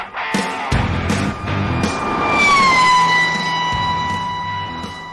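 An ambulance siren wails steadily and then drops in pitch as the vehicle passes close by, continuing at the lower pitch afterward, with traffic rumble underneath and no voices.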